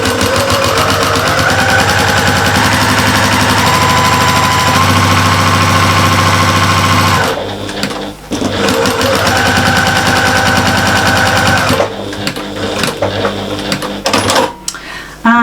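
A sewing machine stitches lines on a big fabric shopper bag, a loud, fast, steady mechanical clatter that runs continuously, breaks briefly, then resumes in bursts near the end.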